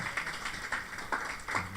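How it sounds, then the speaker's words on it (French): Church congregation clapping in a short burst of scattered, light applause with a few distinct claps, fairly faint and sparse. "applaudissez pour vous"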